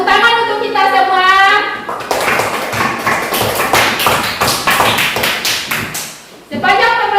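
A classroom of students bursts into rhythmic group clapping in the middle, a run of sharp close claps lasting several seconds, framed by a teacher's voice speaking before and after.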